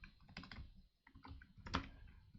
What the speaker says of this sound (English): Just what's with my typing today?